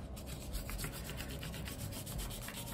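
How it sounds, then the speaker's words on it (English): A crayon rubs rapidly back and forth over a leaf laid under paper, a steady, close scratchy rasping with a quick repeating stroke rhythm that continues without any speech. "you can pinch and move the crayon back and forth to get that leaf rubbing"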